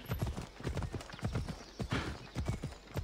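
Horse hooves clop in a rapid, steady galloping rhythm in the video game Assassin's Creed Odyssey, close and prominent, with no speech over them.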